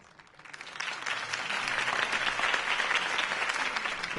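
Applause from a crowd inside a Batman video game, swelling up from quiet over the first second and then holding as a dense, steady clapping.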